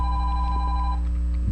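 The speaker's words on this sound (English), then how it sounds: "that phone is going crazy, but I can't answer it, I'm busy." A telephone rings steadily with an electronic tone, heard under continuous background noise and a low hum indoors, fairly loud and without pause for most of the short stretch.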